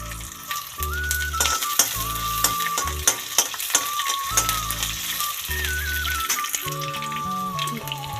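Chana dal, urad dal, onion, garlic and ginger sizzle steadily in a hot pan, with sharp spatula scrapes and clicks of stirring punctuating the frying; background music plays softly underneath.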